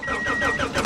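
A 1992 Suzuki Alto Works cranking and catching as its engine starts, a loud close rough churning with a faint whine running through it, continuous across the moment.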